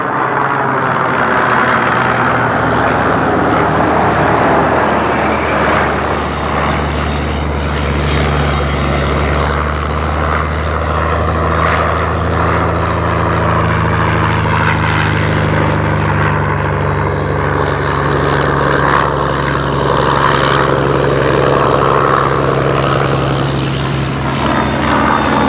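Historic propeller aircraft of the Shuttleworth Collection drone overhead in a mock combat display, with engine tones rising and falling steadily as they wheel about, loud and continuous.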